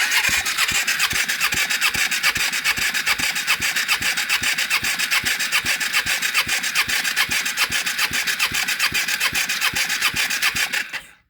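A 2006 Kawasaki Ninja EX250R engine cranking over on the starter during a compression test, a fast even rhythmic chugging that runs steadily and loudly for about eleven seconds before stopping abruptly.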